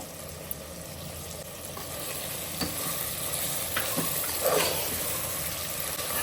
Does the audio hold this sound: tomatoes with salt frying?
yes